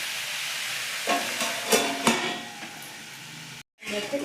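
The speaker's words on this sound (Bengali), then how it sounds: "ভালো করে মিশিয়ে নিচ্ছি" Chana dal and cabbage being stirred in a pan: a steady sizzle with several scraping, clinking strokes of a spoon against the pan, close and moderately loud, cut by a brief dropout near the end.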